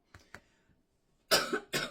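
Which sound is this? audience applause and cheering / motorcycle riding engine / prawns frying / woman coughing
woman coughing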